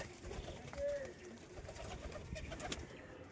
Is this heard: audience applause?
no